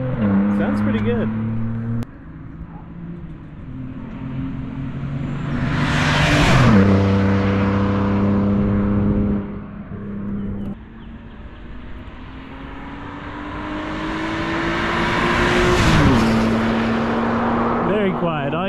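A ZHP car fitted with a valved Turner exhaust, heard from on board while driving, climbing through revs in two long pulls with a gear change between them, loud and close, with people talking over it.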